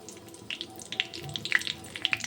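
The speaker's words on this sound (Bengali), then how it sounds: "বেশ খানিকটা সর্ষের তেল এক চামচ মতো দিয়ে দিয়েছি গোটা জিরে দুটো তেজপাতা আর দিলাম দুটো শুকনো লঙ্কা ফোড়ন হিসাবে" Whole cumin, two bay leaves and two dried red chillies crackle in a spoonful of hot mustard oil, giving soft scattered pops and a light sizzle that stay fairly faint throughout.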